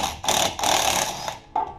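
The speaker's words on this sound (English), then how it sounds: "We can get a wrench on the back side." Ratchet wrench turning a strut nut on a 2007 Honda Ridgeline front strut, three quick bursts of clicking close by with short pauses between them.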